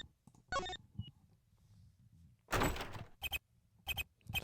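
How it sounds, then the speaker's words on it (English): Ace Attorney video game door opening: a short creak, then a loud burst and several clipped thuds and knocks in quick succession, close and alone. "Funny, I could have sworn I just heard a door open."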